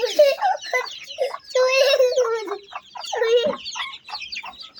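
Domestic ducks and fowl gather by a small duck pool, giving a run of close, loud, honking and clucking calls in quick uneven bursts with short pauses between them.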